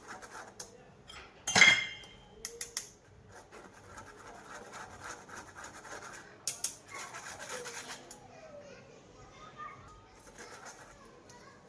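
Whole-wheat cake flour mixed with baking soda is shaken and rubbed through a sieve for a plum fruit cake. It gives soft scraping and rasping strokes, with a sharp metallic clatter early on and light clinks scattered in between.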